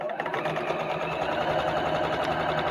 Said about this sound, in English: and just sew.